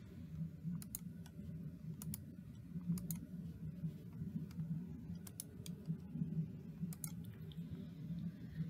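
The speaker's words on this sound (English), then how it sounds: "I'm going to correct these by right-clicking on the word and choosing the correct spelling." Sharp, close computer mouse clicks, several single and double clicks spaced a second or so apart, while misspelled words are corrected in Gmail. Low background hum, no talking.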